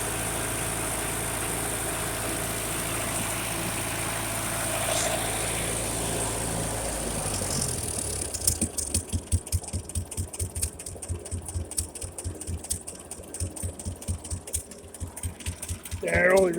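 A Ferguson tractor engine idles at about 1,600 RPM, first as a smooth steady hum, then as a louder, choppier pulsing chug heard close up, with a voice briefly at the end.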